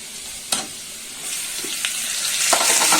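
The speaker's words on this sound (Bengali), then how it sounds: "আলু দিয়ে মশলা দিয়ে সব একসাথে কষাচ্ছি" Fried potatoes and spices sauté together in a pan, giving a close, steady sizzle broken by a few sharp stirring scrapes and clinks.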